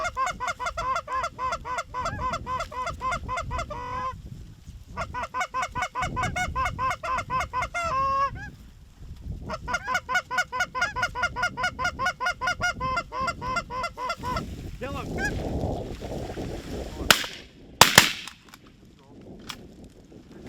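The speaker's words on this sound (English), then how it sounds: "the first goose of the morning came in, and then a 2-pack came in behind them" Geese honking as they fly in over a goose hunting spread on a North Dakota feed field, a long, loud flock chorus of repeated honks with a brief pause and sharp bangs near the end.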